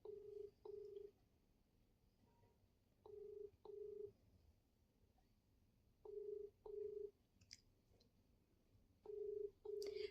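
A phone call rings back through the earpiece in a steady double-ring pattern, four paired tones spaced evenly over the stretch with a faint hiss between them and no voice.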